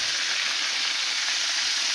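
Chicken fries in hot oil with a steady, close, continuous sizzle and crackle, a loud hiss that fills the whole stretch without any voices.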